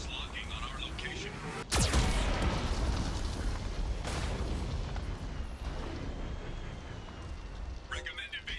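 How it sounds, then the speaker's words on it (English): A Geth cannon in Mass Effect 2 fires with one sudden, heavy boom that rolls into a long rumbling wash of debris and noise, close and loud, with a synthetic voice speaking over the game sound. "Warning, Geth cannon is locking on our location."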